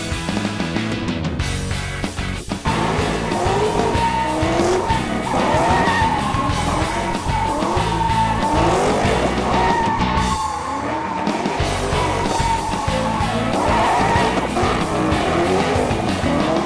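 A Holden Monaro drift car skids with squealing tyres and a roaring engine, loud and continuous for the whole stretch, with crowd yells mixed in.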